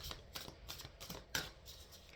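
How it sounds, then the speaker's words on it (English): New tarot cards being shuffled by hand, a quick run of soft papery riffles and flicks, close and faint, with no talking. "These are new cards, so sometimes it's a little harder to shuffle through."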